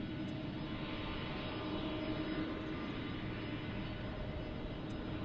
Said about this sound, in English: Probably a Dreamliner, Mark.